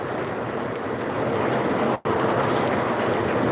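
Heavy monsoon rain pours down in Latur, a dense, unbroken hiss of downpour that stays loud throughout apart from one momentary dropout.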